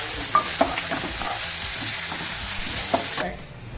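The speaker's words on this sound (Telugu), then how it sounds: "జింజర్ గార్లిక్ యాడ్ చేసుకొని స్టిర్ చేద్దాం" Ginger, garlic and turmeric fry in a pan for lamb liver fry, with a steady close sizzle and a few scraping stirs of a spatula before the hiss abruptly drops away near the end.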